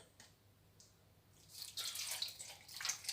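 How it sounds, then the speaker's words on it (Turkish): Water runs from a tap over peppers that have been salted and doused with vinegar, a faint trickle that swells into a louder splashing pour in a quiet kitchen. "Sonra bolca su dolduruyoruz."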